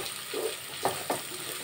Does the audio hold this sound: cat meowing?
no